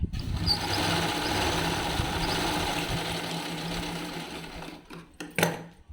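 Sewing machine stitching a saree's pico fall, a fast steady mechanical whirr running close for several seconds before stopping, followed by a few brief clunks.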